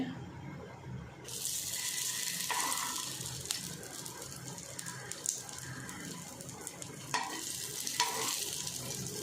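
Stuffed corn tikki snacks shallow frying in a pan over medium heat, a steady broadband sizzle that swells when pieces are added, with light scraping and stirring clatter throughout, no talking.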